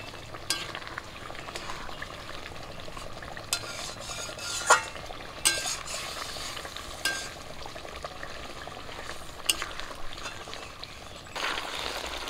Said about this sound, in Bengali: খুন্তি দিয়ে আস্তে আস্তে একটু ঘেটে দেবো।